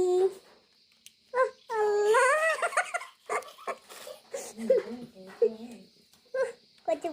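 A dog whimpering and whining while being fed Parle-G biscuits, with high wavering whines and short yelps close by, broken up by brief pauses.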